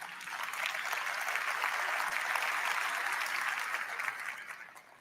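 Audience applause fills a large hall at the NVIDIA GTC 2025 keynote, a dense, steady wash of clapping that swells in quickly, holds loud for several seconds and tapers at the end, with no speech over it.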